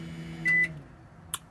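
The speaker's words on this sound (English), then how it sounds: "The microwave is running fine though." Microwave oven in a campervan running off the van's batteries: a low steady hum throughout, broken by a loud single electronic beep near the middle and a short click or tap toward the end.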